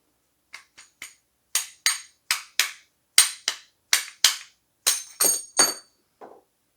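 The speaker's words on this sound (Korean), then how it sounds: "그리고 망치로 뒤쪽에서 톡톡 치면은" Hammer tapping a crown race off the back of an alloy bicycle fork: about fifteen sharp, clinking metallic taps in an uneven run of spaced strikes, close and fairly loud, with no talk.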